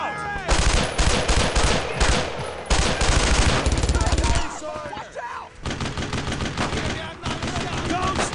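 Sustained machine-gun suppressing fire in the WWII shooter Brothers in Arms, loud rapid bursts with short pauses and overlapping gunfire throughout, mixed with battle noise and shouted voices.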